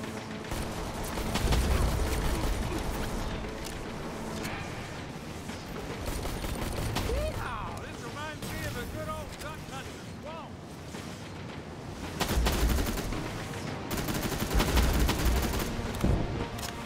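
Gunshots and explosive combat noise in the Terminator: Resistance shooter, a dense continuous barrage with bursts of heavier fire, loud throughout, with some voices talking underneath.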